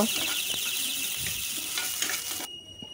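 Steady sizzling of onion and chili frying in hot oil, a broad hiss running throughout with occasional stirring clatter, ending in a sudden drop to a quieter hum.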